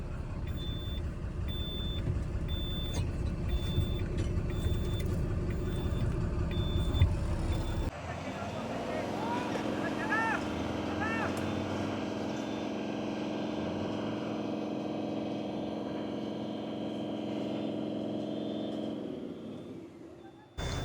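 Tractors strain to pull a truck stuck in the ground while loading potatoes, their engines droning steadily with a beeping alarm and a sharp air release midway, voices talking faintly underneath.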